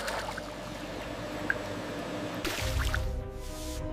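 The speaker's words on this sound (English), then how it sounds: "Submerge pelts completely in rehydration bath." Raw tiger fur pelts sit submerged in a tannery rehydration bath, with close wet dripping, sloshing and squishing water sounds that grow fuller and splashier partway through.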